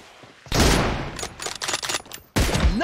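Rapid automatic gunfire in PUBG Mobile, loud close bursts of shots that break off briefly and then resume in a second fierce burst.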